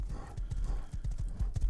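A horse in the video game Rust gallops with quick, rhythmic hoof clops, close and steady over a brief rumbling background.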